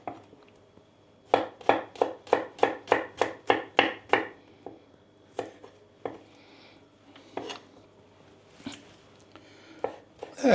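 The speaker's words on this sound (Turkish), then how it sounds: "Evet, sarımsaklarımızı da kestik." Knife chopping garlic on a cutting board while making Turkish dried bean stew: a quick run of about eight crisp, evenly spaced chops, then a few scattered, softer cuts and board taps, all close and clear with no talking.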